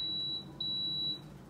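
A Power XL grill's control panel gives high electronic beeps as its timer is set, two or three short tones in quick succession over a quiet kitchen background.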